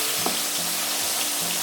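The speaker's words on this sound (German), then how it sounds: "Ein Esslöffel Pixian Sojapasta scharf anbraten." Loud, close sizzling of Pixian chili bean paste frying in hot oil in a pan, a dense continuous crackle throughout.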